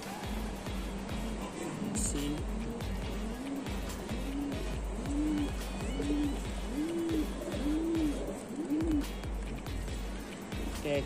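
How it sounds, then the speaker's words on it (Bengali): A racing pigeon cooing close by, a run of soft, evenly spaced rising-and-falling coos over a steady low rumble of background traffic. "এই যে একটা কবুতর"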